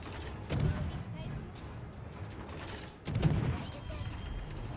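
Warship guns firing in the video game World of Warships, two heavy booming salvos about two and a half seconds apart over a constant rumbling battle background.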